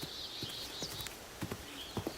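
A horse is led away to the stable, its hooves clip-clopping in several faint, spaced steps over a steady background hiss.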